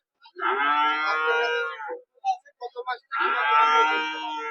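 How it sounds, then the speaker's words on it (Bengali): Holstein Friesian cattle at a livestock market give two long, loud, close moos with a few short grunting calls between them, on an otherwise quiet background. "আজকে হাটে গরু নিয়ে আসছি"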